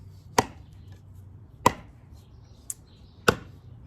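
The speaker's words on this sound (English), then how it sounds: "I don't know why you'd ever want to chop rope with a with a 3-pound or a 5-pound Bowie" Heavy Bowie knife chopping through rope, four sharp, isolated thwacks spaced about a second apart, close and crisp against a quiet background.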